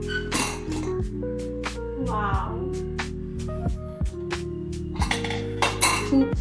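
Metal pots and a pressure cooker lid clink and clatter in a home kitchen after cooking dal khichdi, a run of sharp bright knocks and scrapes spread across the stretch, with a brief spoken exclamation in between.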